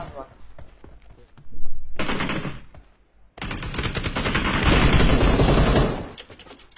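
Bursts of automatic gunfire from the PUBG Mobile battle royale game, a short rattling volley and then a longer sustained spray, loud and close, with a player talking between and under the shots.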